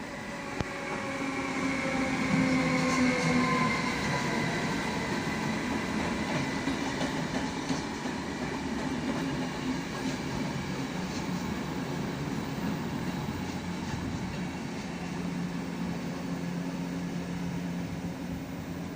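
A passenger train from Vratsa rumbles steadily past Shumen station in Bulgaria for a long stretch, with wheel noise and clattering over the rails, fairly close and continuous.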